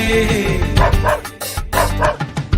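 Several short dog barks pop out over a bouncy music track with singing, spaced irregularly through the passage.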